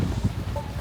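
Strong wind gusts outdoors at Calatagan, Batangas, a close, loud roar buffeting the microphone in a continuous rumbling wash with no clear break.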